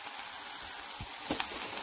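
Chicken and other meats sizzle steadily in a hot pan, a soft crackling hiss with a couple of faint scraping stirs, nearby and quiet.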